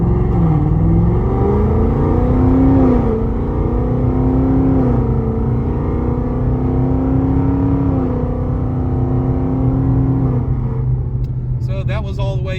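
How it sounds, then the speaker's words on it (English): A car fitted with a Whipple supercharger pulls away from a stop and works up through all six gears at light throttle. Its engine drone climbs steadily, drops at each shift and climbs again, loud and close for the whole run. "Go from a stop through the gears just so we can kind of feel them all."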